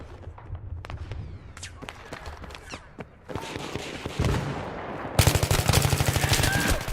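Full-auto gunfire in Battlefield 3 on PS3, with a quieter stretch of scattered shots and footsteps followed by a loud, sustained burst of rapid automatic fire toward the end.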